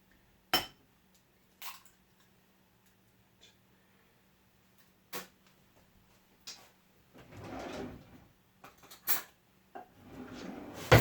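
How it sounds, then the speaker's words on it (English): A spoon scrapes and taps inside a mixing bowl of cracked eggs while fishing out bits of shell, giving scattered sharp clinks and a few short scraping bursts against quiet background. "Take a spoon and fish out my bits of shell."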